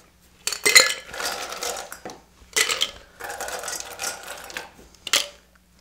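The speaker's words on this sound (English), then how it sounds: "So we're gonna add ice." Ice is dropped into a cocktail shaker for a Bathysphere cocktail, with three bursts of clattering, rattling cubes spaced a second or two apart and a final short clink, close and fairly loud.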